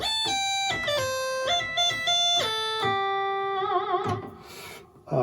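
A bright, buzzy Moog Sub 37 analog synthesizer lead plays a gliding solo line, notes sliding between pitches with some wobbling vibrato near the end, steady and fairly loud.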